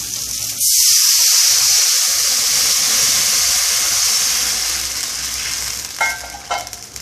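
Two tumblers of water hit a hot pan with a sudden loud hiss that settles into a steady, intense sizzle, followed near the end by a few clinks and scrapes.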